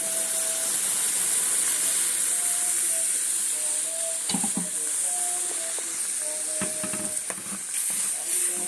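Milk hits a hot pan of fried pumpkin and sizzles in a steady, bright hiss, with a few soft clatters of stirring near the end.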